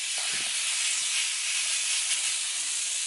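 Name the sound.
steak meat sizzling on a griddle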